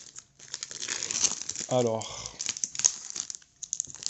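Plastic packaging being crinkled and torn off a 4K E.T. box set, close and rustling throughout, with a brief spoken word in the middle.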